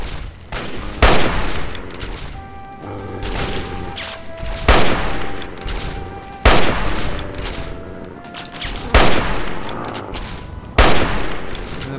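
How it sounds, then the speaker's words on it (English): Bursts of gunfire from Fallout 3 ring out in repeated volleys about every two seconds, each loud crack followed by rattling and ringing decay, with no talking over them. "they're firing at the Enclave iPod"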